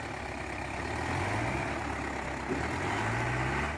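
A heavy tractor's engine drones steadily at close range with a deep low rumble and constant loud load, no talk over it.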